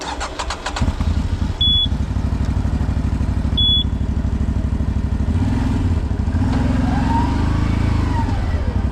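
A CFMOTO 800 XC motorcycle engine drones steadily and loudly while climbing a mountain slope, with two short beeps early on and the engine note rising and falling toward the end.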